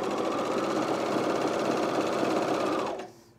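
Coverstitch or serger sewing machine stitching stretched fabric for a camisole, a fast steady mechanical whir running loud and close for about three seconds before it stops abruptly.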